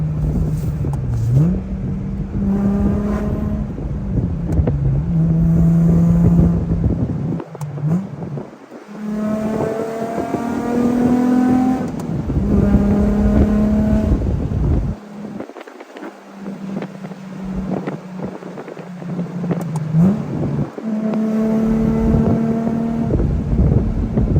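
A car engine in a Nissan G35 with a short shifter revs and drops repeatedly during rev-matched gear changes, with pitch rising under acceleration and quick blips between shifts, plus steady wind noise.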